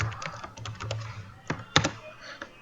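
Quick close clatter of keys being typed on a computer keyboard, a burst of irregular taps followed by a few separated heavier keystrokes, with no talk.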